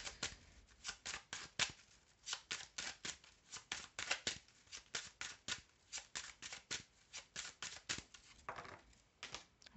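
Tarot-style reading deck being shuffled by hand, a rapid run of crisp, papery riffles and slaps in a quick irregular rhythm, close and fairly quiet, with no talking.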